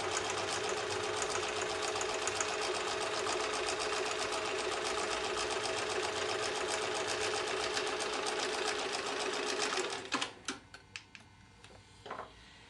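A sewing machine runs steadily, stitching a seam on a mini mosaic quilt block for about ten seconds, then stops, followed by a few faint clicks and handling noises.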